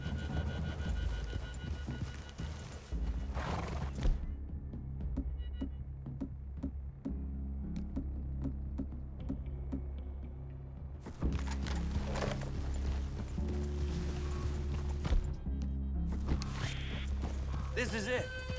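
Horses walk in the Red Dead Redemption 2 video game, their hooves clip-clopping steadily in a continuous rhythm under game ambience while people talk.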